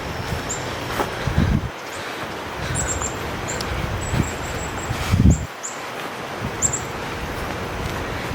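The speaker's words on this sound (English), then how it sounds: "You hear the birds?" On a nature trail in Fanshawe Conservation Area in London, Ontario, small birds chirp in faint, scattered bursts through the background, while wind gusts and rustling rise and fall in the foreground.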